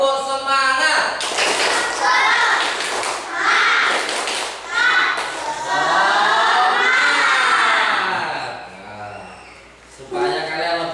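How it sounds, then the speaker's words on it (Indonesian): A class of students in an Indonesian teaching session performs the patterned spirit clap, bursts of rhythmic clapping and shouts mixed with children's voices, pausing and resuming in rough unison. "Tepuk semangat."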